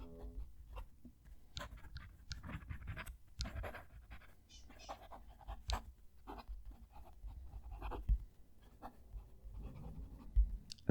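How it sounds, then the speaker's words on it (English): A fountain pen nib, either a Pilot Prera or a Sailor ProGear Slim, writes a sentence on paper with a close-miked, quiet scratching and tapping rhythm of short strokes and brief pauses. "Going to move the mic down to the page and write a sentence."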